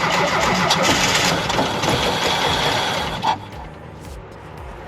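A Subaru engine fitted in a 1985 VW Westfalia van cranks and runs, a loud steady mechanical roar for about three seconds that then drops to a quieter idle.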